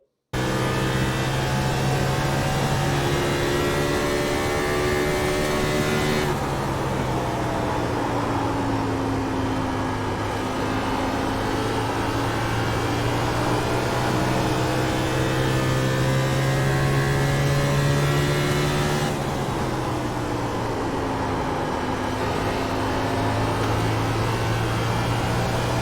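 A race car laps Phoenix in the iRacing sim, its engine droning loud and steady, pitch sliding down and back up through the corners in two long sweeps.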